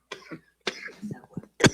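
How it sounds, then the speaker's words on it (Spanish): A person coughs several times in short bursts, close and fairly loud, with brief pauses between the coughs. "Me voy a permitir toser un ratito."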